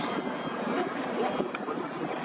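A steady, broad engine roar from an AH-1Z attack helicopter overhead, continuous and fairly loud with a slightly rough, rotor-like texture throughout.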